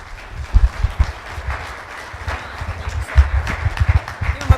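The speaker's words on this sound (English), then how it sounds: "Big loud round of applause." An audience at an investment managers forum applauds, the clapping fairly muffled and uneven, swelling in bursts with low thumps mixed in, lasting several seconds.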